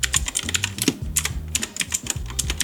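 Typing on a clicky blue-switch mechanical keyboard, with rapid irregular bursts of sharp, close keystroke clicks and occasional pauses, heard alone.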